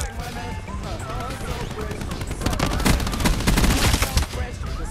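Rapid automatic gunfire from the video game Black Ops 4 rattles in dense, loud bursts that intensify midway, with a voice talking over the shooting.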